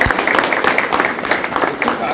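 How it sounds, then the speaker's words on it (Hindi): Applause from a political gathering greets new members joining the party, with dense, steady clapping running throughout at close range and a voice faintly audible underneath. "आप सभी लोग ताली बजाकर का स्वागत करें"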